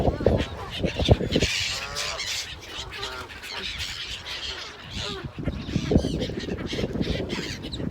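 Ducks and other birds honk and squawk at a village pond, with overlapping calls near and far and a person talking briefly.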